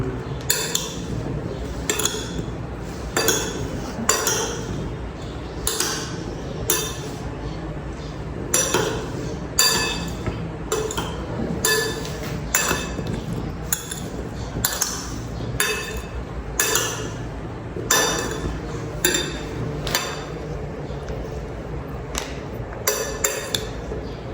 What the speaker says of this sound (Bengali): এটা চামচ দিয়ে মিক্স করো